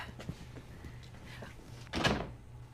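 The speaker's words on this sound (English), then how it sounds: "a closed door." An office door is shut once with a soft, muffled thud near the end, after a stretch of quiet room tone and faint shuffling.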